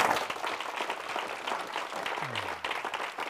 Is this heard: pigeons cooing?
no